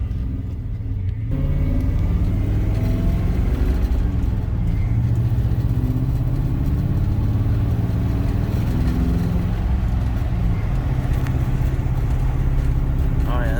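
A 1964 Ford Fairlane 500 fitted with Nissan 240SX coilover suspension drives along the road. A loud, steady engine and road rumble from inside the car continues throughout, with faint voices at times.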